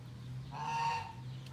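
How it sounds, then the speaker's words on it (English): A farmyard bird call rises briefly over a low steady hum, one short honking note that swells and fades within about half a second. "Our turkeys actually have chicks already."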